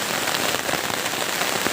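Steady, dense rain pours down at Hahim Aredonga near the Meghalaya border, a loud continuous hiss of drops on surfaces with no voices over it.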